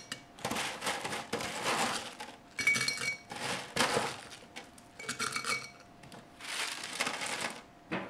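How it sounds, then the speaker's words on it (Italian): Dried plums dropped into a glass jar in bursts, clinking and rattling against the glass in several loud, close clusters separated by short pauses. "non mi resta che inserirle all'interno del mio vaso di vetro"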